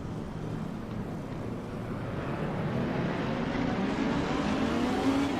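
A Lamborghini race car engine in Assetto Corsa Competizione on a damp, dark track drones steadily and builds slowly in pitch and loudness as the car accelerates, alone without talk.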